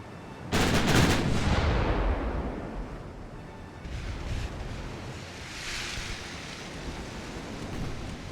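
Battleship guns in the naval game Ultimate Admiral: Dreadnoughts fire with a heavy booming report, followed by long rumbling decay and more distant salvos and splashing shell impacts over a wash of sea and wind.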